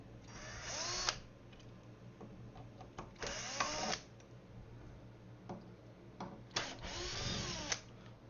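A Milwaukee M12 cordless driver sends screws into a wooden screen stand in three close whirring bursts of about a second each, separated by clicks and handling noise.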